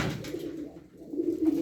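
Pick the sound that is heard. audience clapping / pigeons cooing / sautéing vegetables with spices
pigeons cooing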